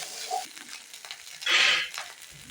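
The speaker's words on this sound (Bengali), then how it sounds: "বেটে রাখা জিরেটাও আমি আদার সঙ্গে দিয়ে দিচ্ছি। দিয়ে দুটো মশলা ভালো করে কষাতে থাকবো।" Ginger and ground cumin being stir-fried together in a pan, with a steady sizzle and scraping stirs building to a louder burst of frying midway, close and without talk.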